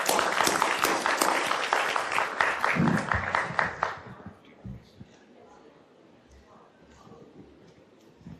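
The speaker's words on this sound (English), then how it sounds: "A big round of applause." Audience applause at an investor pitch event, a dense burst of clapping from a crowd that fills the first four seconds, then thins out into scattered claps and quiet room noise.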